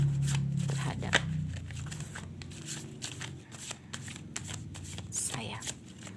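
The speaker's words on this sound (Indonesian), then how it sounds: "jangan di skip pada saat saya menshuffle kartunya" Tarot cards being shuffled by hand, a soft papery riffling and flicking that runs steadily throughout, close and fairly quiet, with a voice speaking faintly underneath.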